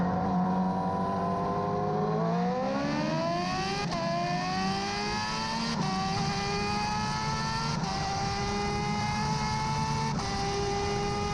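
A Nissan GTR with 1300 horsepower runs nitrous tests in GTA, its engine climbing through gear after gear in long rising whines, each upshift marked by a brief drop, loud and steady with no talk.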